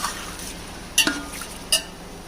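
Chicken pieces, 2.5 kilograms, being stirred and browned in a pot for chicken pulao, with a few sharp metallic clinks of a spoon against the pot over a faint low sizzle, no talking.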